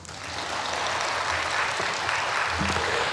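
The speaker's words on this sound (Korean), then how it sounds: "박수 치고 싶으면 치세요" A church congregation applauds during a Sunday worship sermon, a steady, dense wash of many hands clapping heard from within the hall and holding evenly throughout.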